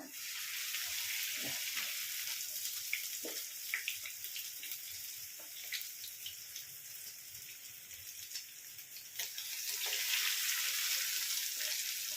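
Cornflake-coated chicken sizzles steadily in hot oil, a continuous crackling hiss with occasional pops, and no voices.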